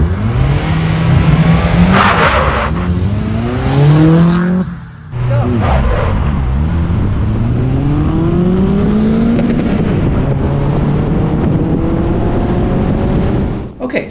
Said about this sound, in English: my RAV4 really is going as fast as possible right now